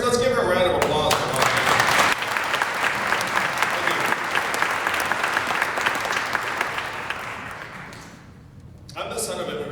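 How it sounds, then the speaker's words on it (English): Audience at a town hall in Dubuque breaks into loud, sustained applause lasting several seconds, fading near the end before a voice returns. "let's give her a round of applause"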